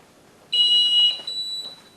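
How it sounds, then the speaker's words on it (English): An airport archway metal detector at passenger screening sounds its alarm, a bright, steady electronic tone lasting about a second, then a softer second tone, close and clear with no talk. "it's possible to conceal items which may cause the archway metal detector to alarm"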